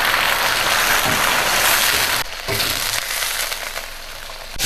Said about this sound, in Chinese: 直接先过一下油